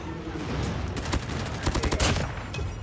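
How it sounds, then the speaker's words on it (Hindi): Bursts of gunfire from a sniper rifle in an online shooter game, several rapid cracks clustering midway through a steady wash of in-game ambience, fairly loud and close. "किधर से तो स्नाइपर का आवाज आ रही है"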